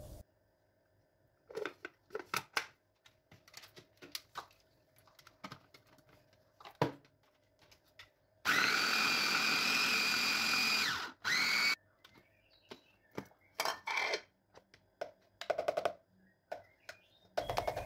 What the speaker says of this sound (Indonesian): Ini akan aku haluskan menggunakan food chopper.